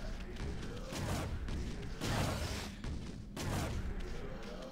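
Cannons firing in the video game Okami HD, a run of heavy booming blasts with thudding impacts, several in quick succession, over game ambience.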